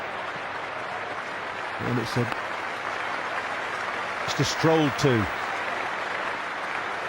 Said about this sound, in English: Every run receiving thunderous applause from this England, or from the England supporters in this crowd